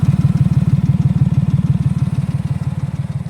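A Honda Acty Town kei truck engine idling with a throaty aftermarket exhaust, a steady rapid burbling pulse, close and loud.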